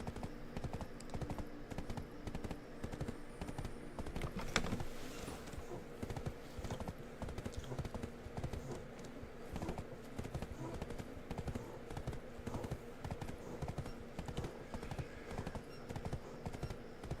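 A horse's hooves clip-clop in a steady, fast rhythm in Black Desert Online, moderately close and continuous.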